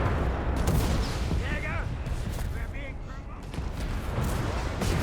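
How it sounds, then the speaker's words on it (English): Grant tanks and an EC8 firing in a Company of Heroes 3 match, heard as dense rumbling booms and gunfire under continuous loud play-by-play commentary. "Got the Grants and the EC8 firing away there."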